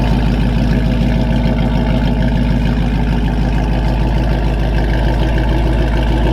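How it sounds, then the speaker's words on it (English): A deep, rumbling car exhaust burbles steadily at idle, close and loud, with a low pulsing throb and no voices. "Just listen to the exhaust."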